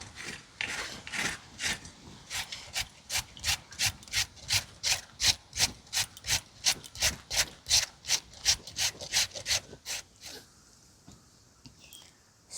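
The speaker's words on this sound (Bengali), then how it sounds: "একটা আলু নিয়েছি গ্রেট করে নেব" A raw potato being grated by hand, close and fairly loud: a steady run of about twenty rhythmic rasping strokes, evenly spaced, with no talking, before the strokes stop near the end.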